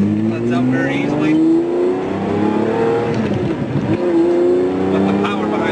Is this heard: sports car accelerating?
yes